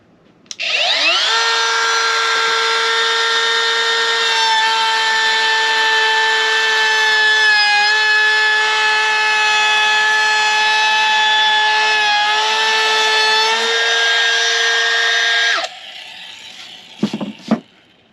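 Craftsman V20 brushless cordless router with a bearing-guided bit cutting a chamfer along a wood edge: a loud, steady high whine that spools up, holds for about fifteen seconds, then stops, followed by a few faint handling clicks.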